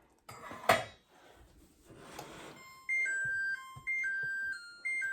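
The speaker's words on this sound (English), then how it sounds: "Take it off the stove, off the burner." A pot lifted off a stove burner lands with a sharp metallic clank, followed by a quieter scrape. Repeated electronic beeps from the stove's controls follow.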